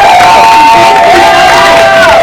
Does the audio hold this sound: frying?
no